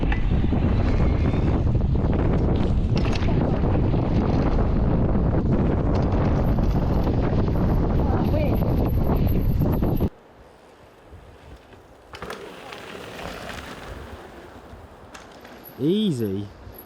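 Heavy wind roar buffets the microphone while riding a bike for about ten seconds, then drops to a quieter rush with a brief high tonal sound near the end.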